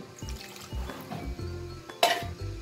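Water is poured into a bowl of bread ingredients for pan de coco, a short run of soft liquid splashes and gurgles with a small clink near the end, quiet and close.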